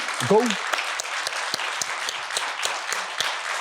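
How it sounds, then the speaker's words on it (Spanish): A studio audience applauds for Dr. Miguel Ángel Gou, a steady wash of clapping with scattered sharper claps, while a voice speaks briefly over the start. "le damos un aplauso con cariño al doctor Miguel Ángel Gou"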